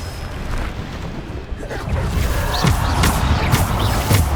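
Spell blasts in Hogwarts Legacy, including the Bombarda explosion spell, with a dense rumbling roar of magical impacts and crashing debris over a loud continuous battle din.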